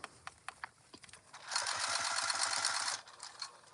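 Sewing machine stitching across the top of a fabric tote bag: a few scattered mechanical clicks, then a steady whirring run of rapid stitching for about a second and a half before stopping, close and fairly quiet.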